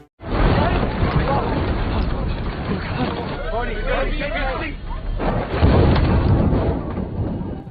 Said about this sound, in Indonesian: Baru saja bernapas lega karena dirasa aman, Guludug pun menyambar. Guludug itu petir